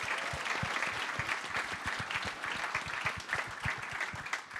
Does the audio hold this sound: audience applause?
yes